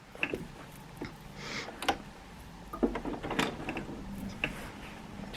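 A sewing machine stitching during free motion quilting, giving soft mechanical ticks and clicks in irregular bursts, close and fairly quiet against a steady low hum, with no talking.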